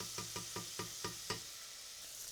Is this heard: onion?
yes